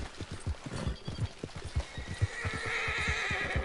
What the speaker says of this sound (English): Jump over the fence, horse!